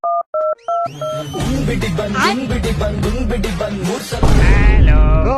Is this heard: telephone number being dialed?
yes